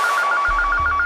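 A telephone rings for a local call, giving a quick run of short, evenly pulsed electronic tones that repeat steadily and close by, with no one talking.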